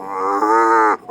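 A man imitates an ox mooing, one sustained nasal low call lasting about a second, loud and close, with a short breathy tail at the end and no other talk over it.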